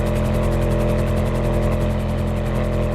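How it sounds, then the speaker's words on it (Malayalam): A helicopter flying nearby, a loud continuous rotor drone with a steady rhythmic low chopping pulse, filling the whole moment without any talk. "ഹെലികോപ്റ്റർ നമുക്ക് എസ്കോർട്ട് ആണോ?"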